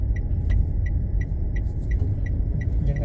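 A car engine rumbles steadily while driving, a low continuous drone with faint regular ticking over it.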